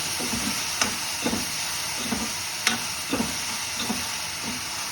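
Tomatoes soften while sautéing in a pan for a brinjal fry, with a soft continuous sizzle and hiss. A few light stirring scrapes come through at irregular intervals, fairly quiet and close.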